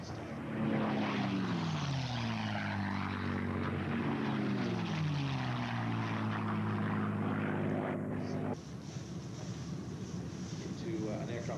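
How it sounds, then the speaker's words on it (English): A North American P-51 Mustang warbird flies by at an air show, its propeller engine droning loudly with a falling pitch as it passes, steady and close before fading; a voice talks over it. "Here's a Mustang."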